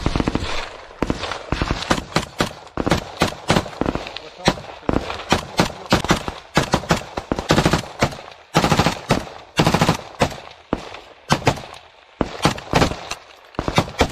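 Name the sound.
automatic gunfire in combat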